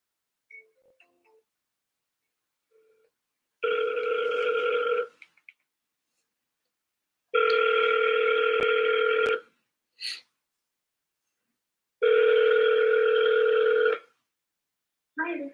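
An outgoing phone call rings through the handset: three long, evenly spaced electronic ringback tones with silent gaps between them, after a few faint taps and short beeps from dialing.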